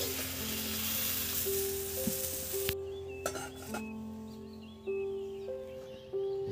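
Brinjal (eggplant) pieces frying in hot oil give a steady, loud sizzle that runs throughout, with occasional stirring clatter and faint birdsong behind it; no one speaks.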